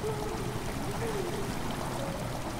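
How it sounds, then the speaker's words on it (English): Water in the video game Amnesia: The Dark Descent slowly fills a stone chamber, a steady rushing, trickling flow that holds at one level throughout. "Water started to slowly fill this chamber."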